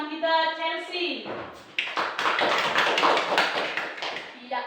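Junior high classroom students break into brisk, scattered applause for a classmate named Chelsea, following a short spoken line from the teacher.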